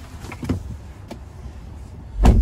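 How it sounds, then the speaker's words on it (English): Power windows and door locks of a 2021 Chevrolet Silverado Trailboss LT pickup operate inside the cab, a few short mechanical clicks and whirs ending in a louder thump close by. "Power door locks and windows."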